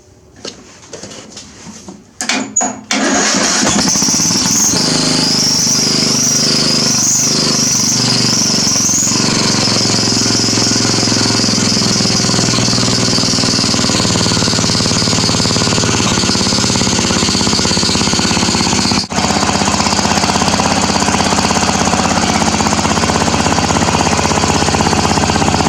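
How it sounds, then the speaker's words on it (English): A Poulan engine fitted with a new chrome exhaust stack fires up after a few sputtering attempts, then settles into a loud, steady, close roar that holds to the end with only a brief dip. "It is now time for a first fire off with the new exhaust."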